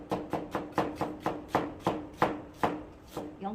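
Knife slicing an onion into thin strips on a cutting board, about a dozen evenly spaced crisp chops in a steady rhythm, close and clear with no voices.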